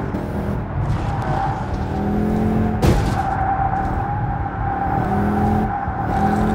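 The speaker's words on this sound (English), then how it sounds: "just going to show you a quick example now of some wall riding in action" Race car in Gran Turismo Sport grinding along the wall on Tokyo Expressway, engine droning and shifting pitch, with a sharp scraping impact partway through and light tyre squeal.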